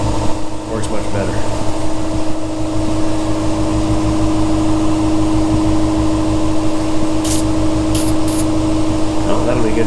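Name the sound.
spray painting car hood scoops with a paint gun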